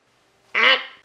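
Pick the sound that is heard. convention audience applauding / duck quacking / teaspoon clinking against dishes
duck quacking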